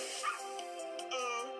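A cartoonish dog barks and yips a few times over busy game music and effects, moderately loud and close in the monster-collecting video game Pixelings.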